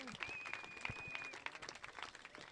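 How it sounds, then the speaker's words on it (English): Faint applause and clapping rise from a crowd at the Ballito Pro 2015 surfing contest after a surfer's ride, distant and low, with scattered claps and a thin whistle drifting over the crowd. "Round of applause for Michael Rodriguez, 10-point ride, excellent surfing."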